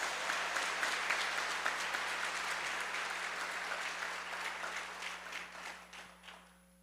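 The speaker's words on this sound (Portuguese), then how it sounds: "Aplauda Jesus Cristo." Congregation applauding during a Portuguese-language sermon, a sustained wash of clapping with a steady low hum underneath that tapers off over the last seconds.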